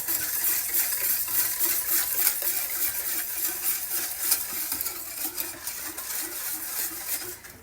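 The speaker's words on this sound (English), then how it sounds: "just going to whisk all that together" A whisk scrapes and clicks rapidly against a pot of coconut cream pie filling on the stove, a busy, fairly loud rhythmic stirring with light metallic taps throughout.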